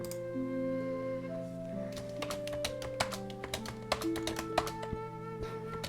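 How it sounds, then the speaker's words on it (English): Keys struck hard on a computer keyboard, a run of sharp, uneven taps at close range over a steady background of soft music tones. "Just hearing me slam on my keyboard as I type each letter out."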